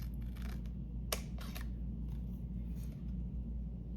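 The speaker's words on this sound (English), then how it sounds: "I want to make sure I cut this to the same size." Scissors cutting paper to size: a few short crisp snips, one sharper cut near the start among softer ones, over a steady low hum, close and fairly quiet, no talk.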